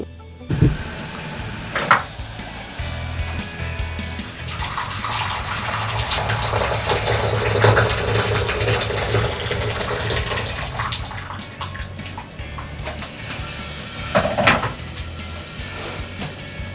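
Boiling water pours from a kettle into a bowl in a long steady gush, framed by a couple of knocks and clinks at the start and end.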